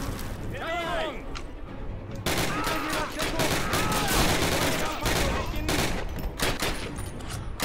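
Gunfire in the World War II shooter Call of Duty: United Offensive, a dense, continuous barrage of rapid shots and bursts, loud and close, with a shouted voice briefly heard early on.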